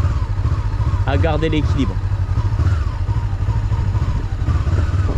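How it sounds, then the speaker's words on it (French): A motorcycle engine runs steadily and loudly nearby, its throttle and clutch worked during a slow-speed plateau maneuver, while someone speaks briefly over it. "on repose bien un pied avant et on joue avec l'embrayage et l'accélérateur"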